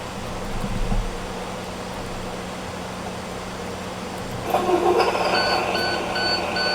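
A parked transit bus's onboard alarm sounds as a steady, fairly loud electronic beeping that kicks in partway through, over a constant low idling engine hum inside the vehicle.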